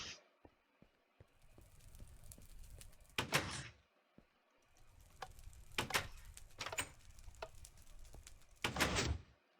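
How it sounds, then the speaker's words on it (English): Minecraft piston door sounds: several sharp mechanical bursts and clacks at irregular intervals over a low rumbling game background, with quiet ticking between them. "Like a piston door here."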